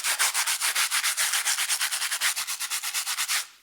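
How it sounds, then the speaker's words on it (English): Stiff wire brush scrubbed in quick, regular back-and-forth strokes across clogged sandpaper while restoring the dash of a 1953 bus, a steady, close, loud scratchy rasp of about twenty strokes that stops abruptly at the end. "Let's take a wire brush,"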